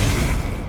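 Confringo explosive spell blast in the Hogwarts Legacy video game during a Pensieve Guardian boss fight, a short, loud, deep booming burst with rumbling low end that fades quickly.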